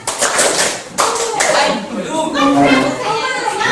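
A classroom of children does a rhythmic spirit clap led by their teacher, bursts of patterned hand claps mixed with children's voices and a woman's speech, close and lively.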